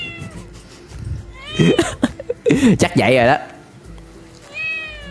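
A cat meows several times, with drawn-out, wavering cries in the middle and another near the end, loud and close, while a person speaks in between.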